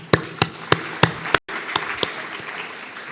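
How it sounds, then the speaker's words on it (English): Audience at a scientific meeting on infection and immunity gives a short round of applause: a handful of sharp, separate claps spaced across the first second and a half, then a brief drop and a few softer scattered claps over room noise. "let's give them a round of applause for their dedication"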